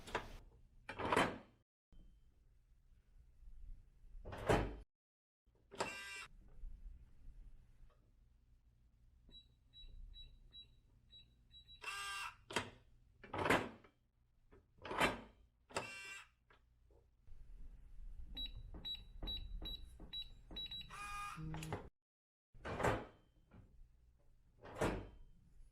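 A SafeLogic direct drive safe lock is tested on a safe door, giving repeated sharp clicks and thumps of the bolt and door. Short high electronic beeps come in small clusters, all fairly quiet and close, with no voices.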